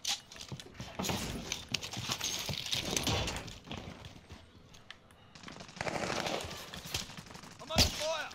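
Gunfire in Call of Duty Warzone, including MP5 submachine guns, crackles in scattered bursts and single shots throughout, with a sharp loud report near the end, under a player's voice chat.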